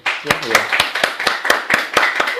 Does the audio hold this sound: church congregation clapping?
yes